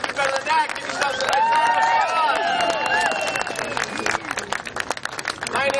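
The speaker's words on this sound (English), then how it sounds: "Give yourselves a nice round of applause." Audience at a highway administrator's special-day gathering breaking into applause, a loud burst of clapping mixed with cheers and whoops that swells early, then thins into scattered claps and crowd chatter.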